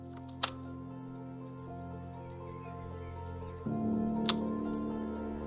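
A Fuji G617 panoramic film camera's shutter fires with a sharp mechanical click, followed by a second click a few seconds later over a steady low hum.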